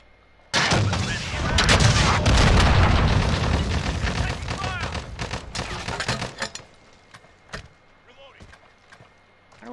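Heavy gunfire and booming rocket-launcher blasts from a Call of Duty: Modern Warfare 2v2 match, loud and dense for most of the stretch, then thinning to scattered sharp shots with voices talking over the action.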